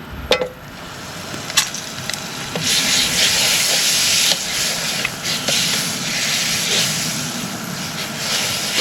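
Butter sizzles and hisses in a hot pan on an induction cooktop powered by a portable power station, a steady bright frying hiss with a few sharp pops and clicks, close and loud.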